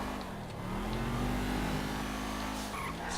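An Audi RS7 Sportback in GTA 5 revs hard and skids, a loud engine roar with tire squeal building over a few seconds and a sharper screech near the end.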